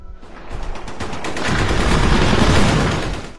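Rapid automatic fire from an Alternator weapon in a first-person shooter game, a loud continuous burst of close shots that swells to its peak midway and then fades.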